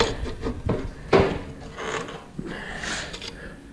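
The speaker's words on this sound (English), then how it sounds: "I've adjusted the vise on the saw, or I'm in the process of doing it right now" Metal clicks, scrapes and rubbing knocks as the vise on a metal cutting saw is adjusted in a workshop, a few irregular close handling sounds with one sharper clack, no talking.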